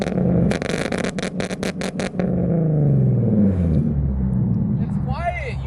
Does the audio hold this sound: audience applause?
no